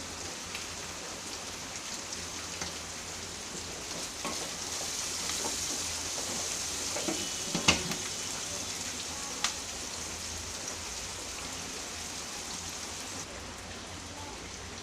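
Onions with a pinch of salt frying in a pan, half softened, giving a soft, steady crackling sizzle with occasional utensil taps and scrapes near the middle and no speech.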